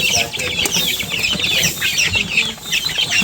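Aseel chicken chicks, about 25 days old, on a small farm: a dense, continuous chorus of high peeping and chirping from many birds close by, with faint background rustling.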